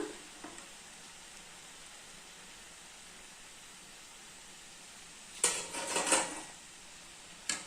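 Tea-shop style bonda frying in a pan of hot oil gives a soft, steady sizzle throughout, with a brief burst of utensil clatter and stirring near the end.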